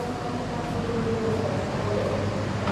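A train with a Puong locomotive stands or moves slowly at an Indonesian railway station on the Jakarta–Yogyakarta line, giving off a steady low rumble and mechanical hum with no talk over it.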